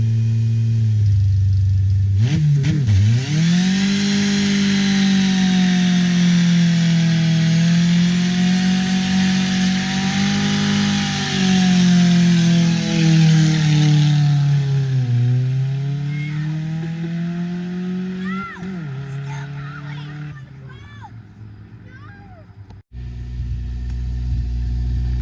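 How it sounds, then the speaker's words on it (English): A modded SOHC car does a burnout, its engine howling loud and sustained at high revs, dipping and climbing again before it cuts off near the end. "hopefully this second burnout, this third burnout, will be the one"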